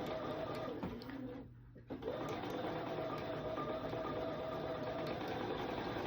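A Bernina sewing machine stitching fabric, a steady close mechanical whir with fast rhythmic needle clatter that pauses briefly and then resumes at an even pace.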